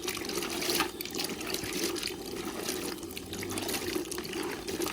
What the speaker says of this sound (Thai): ต้มน้ำอุ่นแล้วใส่เกลือมันจะล้างง่ายมากมันจะละลายเดี๋ยวลองดูนะคะล้างเห็ดเพาะ